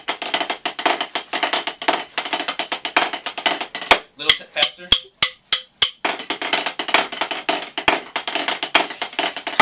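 A snare drum plays a fast rudiment with diddles and flams in the Craig Smith technique, dense rapid strokes broken by a short run of sparser accented hits, played close with one brief spoken word.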